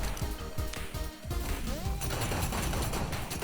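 A gold pistol fires in a 1v1 shooter video game, a quick string of sharp shots over busy game sound.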